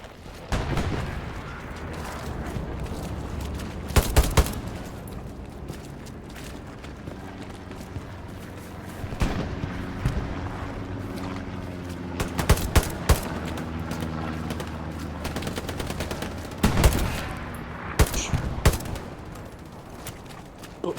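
Machine gun fire in Hell Let Loose, a trench battle with sharp bursts and single cracks of gunfire, near and far, scattered irregularly over a low rumbling background of distant shooting and explosions, no talk.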